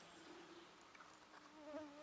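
A faint, steady buzz of a fly hovering nearby in a forest for a couple of seconds, with soft outdoor ambience and no talking.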